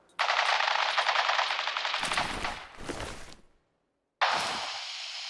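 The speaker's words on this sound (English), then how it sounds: "Stop or we'll shoot. Men, open fire." Rapid automatic gunfire from enemies in Fallout 4, a long sustained burst that tapers off, a short silence, then another sharp burst, loud and close with no voices.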